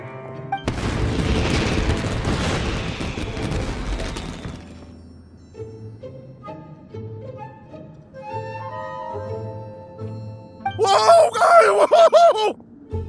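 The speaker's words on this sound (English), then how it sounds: "Yoimiya, this is turning into a bit of a fireworks display." Fireworks from the Genshin Impact video game burst in a loud, crackling roar for several seconds, then fade into soft tonal game music with a few bright chimes and a final sparkling flourish.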